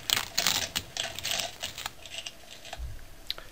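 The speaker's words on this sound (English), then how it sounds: "I'll remove the tape." Tape is peeled off during a Homelite leaf blower starter pull cord repair, a series of close, crackly ripping and tacky peeling bursts that grow sparser, with a dull knock near the end.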